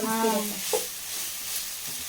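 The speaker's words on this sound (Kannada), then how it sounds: "ಈಗ ಇದನ್ನು ಚೆನ್ನಾಗಿ ಈ ರೀತಿ ಫ್ರೈ ಮಾಡ್ಕೊಂಡು" Cauliflower pieces for Gobi Manchurian fry in a pan with a soft, steady sizzle while being stirred, with a brief scrape around the middle, and a voice is heard briefly at the start.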